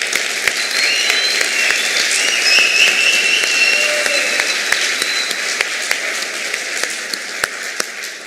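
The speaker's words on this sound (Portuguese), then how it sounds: "uma salva de palmas para vocês" An audience breaks into sustained applause, a continuous bed of many hands clapping with a few sharper individual claps popping through, fading slightly toward the end; faint voices and a whistle-like tone drift underneath.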